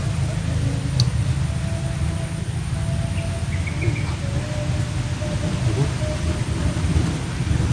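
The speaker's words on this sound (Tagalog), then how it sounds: "Ambon na naman mga lodi." Light drizzle falls in a rural provincial setting as thunder rumbles low and steady, a continuous broadband wash of rain noise with a faint insect chirp in the background.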